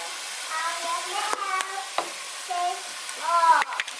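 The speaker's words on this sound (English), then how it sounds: "you should hear your pot sizzling like this" Pork sizzles in a pot with a steady hiss, while stirring adds scraping and squeaky tonal sounds on top.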